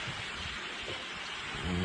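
A vast flock of millions of birds passes overhead, their wingbeats merging into a soft, continuous rain-like rushing hiss, faint and distant, with no talking.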